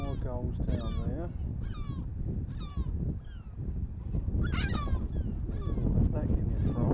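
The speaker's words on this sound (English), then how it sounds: "More gulls down there." Gulls calling along the coast of Bryher in the Isles of Scilly, a string of harsh, rising squawks and cries that come and go over several seconds, close at times, mixed with wind and outdoor noise.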